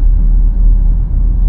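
A Nissan X-Trail rolls slowly along, its engine and road noise making a steady, loud low rumble heard from inside the car without a break.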